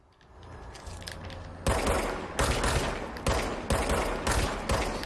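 Bursts of gunfire in the video game Control, a run of loud shots with regular breaks between volleys over a steady background rumble, no voices.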